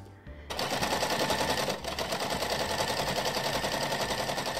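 Sewing machine running steadily while piecing quilt blocks, a loud close rapid mechanical chatter that starts after a brief quiet moment and continues with only a short dip.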